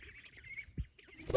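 Goslings and ducklings call in a brief, faint run of thin peeps and chirps close by, followed by a louder rustling burst at the end.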